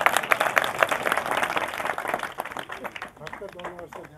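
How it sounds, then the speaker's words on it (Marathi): An audience at a religious discourse claps for a few seconds in a dense burst that thins out, while a voice talks over it. "टाळ्या वाजवा."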